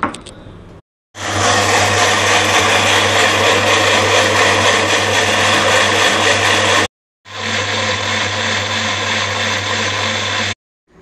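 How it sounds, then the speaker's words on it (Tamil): A kitchen mixer grinder blends dried red chillies with garlic, salt and a little water for chutney, whirring loudly in two long steady bursts separated by a short pause. "இந்த தண்ணியை கொஞ்சம் ஊற்றி அப்படியே அரைச்சிடும்."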